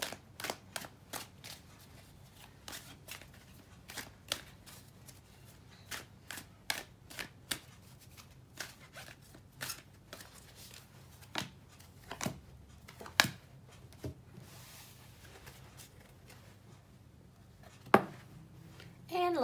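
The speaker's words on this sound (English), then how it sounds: "I am just shuffling at random and stopping when I feel like I need to stop." Rapid soft card shuffling with irregular flicks and taps, quiet and close, continuing for a long stretch.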